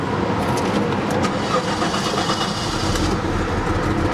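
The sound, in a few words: supercharged Jaguar XJR engine starting and running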